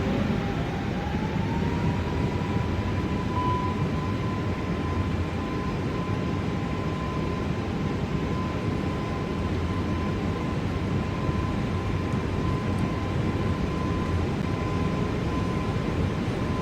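Airbus A320neo jet engines spooling to full throttle in Microsoft Flight Simulator 2024: a steady, loud roar with a rising then sustained whine, continuous and even for the whole stretch, without voices.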